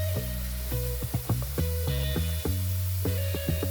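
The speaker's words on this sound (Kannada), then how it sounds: "ಟಮಾಟೆ ಹಾಕೊಂಡು ಎಲ್ಲ ಫ್ರೈ ಮಾಡ್ಕೊತೀನಿ" Tomatoes fry in a pan for masala Maggi, a steady close sizzle broken by repeated sharp clicks and scrapes of a utensil stirring against the pan.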